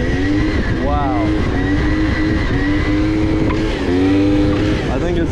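A mint 1990 Yamaha Zuma prebug BWS scooter engine runs close by, revving up and down in several quick blips over a buzzing idle.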